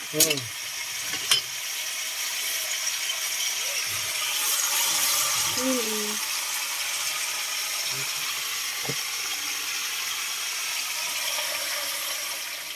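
A sauté sizzles steadily in a pan after fresh coconut milk has been added, with a constant bright frying hiss. A voice speaks briefly over it early on, and faint stirring clinks come and go.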